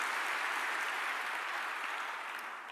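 A congregation in church applauds God, a soft, continuous rush of many hands clapping that holds steady and tapers slightly toward the end.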